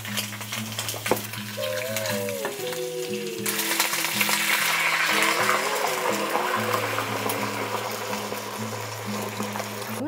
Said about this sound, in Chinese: 首先它說要煎了那個魚先，這個是鯛魚，首先下一湯匙的橄欖油